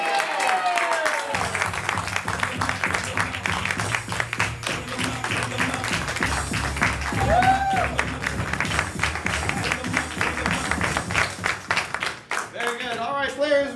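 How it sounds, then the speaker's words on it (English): Audience at an improv comedy show bursts into loud applause, cheering and yelling all together, sustained dense clapping with scattered shouts and whoops fading slightly near the end. "we're going to all, again, explode into applause on the count of 3 and yell, "Get back in here.""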